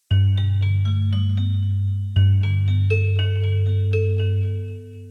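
Synth chords from the Chords engine with the spread set wide, notes stacked across a broad octave range; two sustained chords struck about two seconds apart, loud and full with bright upper harmonics, no talk.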